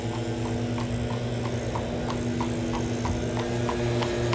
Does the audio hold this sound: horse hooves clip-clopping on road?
yes